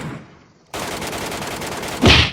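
Video game gunfire rattles in a sustained rapid stream after a brief quiet start, then a louder, heavier blast bursts in near the end, with no talking.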